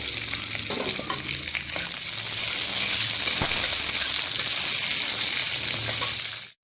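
Onion frying in oil in a wok, a steady, dense close sizzle that fills the whole stretch without a break.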